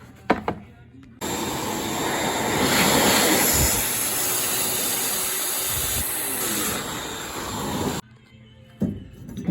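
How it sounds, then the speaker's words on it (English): A 5 horsepower shop vac run as a blower, with a hand cupped around the hose end, gives a loud, steady broadband roar that starts abruptly, holds for about seven seconds, then cuts off, with a few clunks and handling noises before and after. "My shop vac kind of works as a blower."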